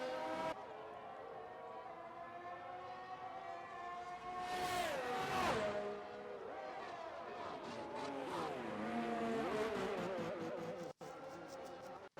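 Race cars roaring around a circuit in a PGR Season 8 round in Australia, engines droning continuously with a rising and falling pass-by sweep midway, moderately loud and without any talking.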